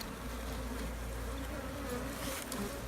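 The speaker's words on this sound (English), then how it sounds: "there is quite a few bees left in the hive" Honeybees buzz steadily inside a hive after a swarm catch, a dense, continuous low drone of many wings, close and unbroken throughout.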